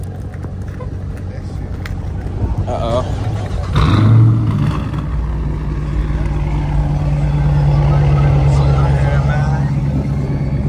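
Dodge Charger R/T muscle car engine idles and rumbles steadily up close, with a brief louder rev partway through and a deep drone continuing after, while someone speaks over it.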